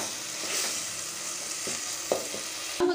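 Ground lentil paste being stirred into a frying tomato mixture for paruppu urundai kuzhambu, a close steady sizzle with a few spoon scrapes and knocks.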